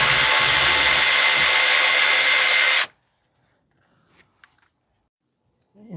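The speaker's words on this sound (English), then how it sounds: "So we are going to remove the bolt here." Power tool spinning out a 10 mm bolt on a 2015 Toyota Sienna AWD 3.5 V6, a loud close whir for about three seconds that stops abruptly, followed by faint clicks and handling noises.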